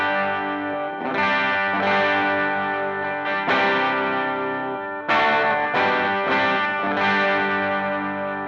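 A big electric guitar chord rings out through a clear overdrive pedal, each string audible, then is struck again several times with sustained, slightly gritty decays and no talking.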